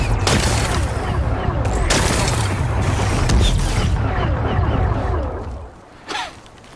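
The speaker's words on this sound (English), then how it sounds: "It's exploding." Rocks blasting apart in the open-world action game Horizon Forbidden West, a dense, sustained rumble of explosive booms and crumbling debris, loud and continuous before tailing off, with one small late thud.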